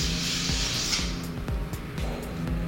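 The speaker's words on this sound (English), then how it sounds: "I just apply some setting spray. This is the Japanese makeup setting spray" Japanese aerosol makeup setting spray mist released in a steady hiss near the face, lasting about a second, with faint handling taps and background noise afterward.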